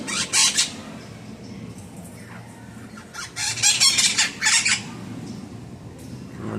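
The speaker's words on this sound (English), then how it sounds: "Alright, got Amazon parrot." Two Amazon parrots at Jungle Island in Miami let out loud, harsh squawks: a short burst near the start, then a denser cluster of calls in the middle, with quieter background noise between them.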